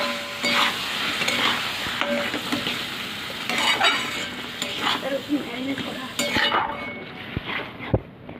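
Chicken cooking in a pan as whisked sour yogurt is poured in, a close steady sizzle with scraping stirs and occasional clinks of a utensil against the pan, ending in a sharp knock.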